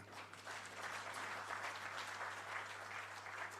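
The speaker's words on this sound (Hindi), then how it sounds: "इतने बड़े संभ्रांत वर्ग अभी ताली बजाकर आनंद व्यक्त करता है" Audience applause filling a hall at the launch of a book about PM Modi, steady and sustained throughout with no pauses, with a low hum running underneath it.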